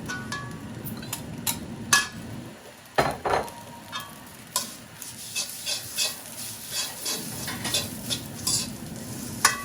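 Onions and dried red chillies hit hot oil with a steady sizzle, broken by a brief pause, while a spoon scrapes and stirs the pan in bursts of close clinks and taps.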